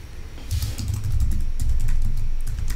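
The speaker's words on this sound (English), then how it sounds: "so I'm just typing anything out, right?" Rapid keystrokes on a computer keyboard, typing continuously in a dense, steady clatter close by, with no speech.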